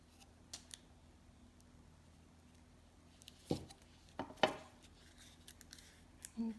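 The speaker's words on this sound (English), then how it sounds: "I'm just going through with a knife and I cut it around as neat as I can to straighten out the clay" A knife trimming around the edges of clay, heard as a few faint scraping cuts and soft clicks against a quiet background.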